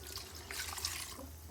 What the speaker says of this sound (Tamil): இன்னும் தண்ணி ஊற்றலாமா?